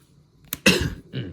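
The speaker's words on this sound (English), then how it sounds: "you might hear me cough a few times in the video" A man recovering from an illness coughs in a short burst: a sharp first hack, then a louder harsh cough and a softer trailing one, close and alone with no talk.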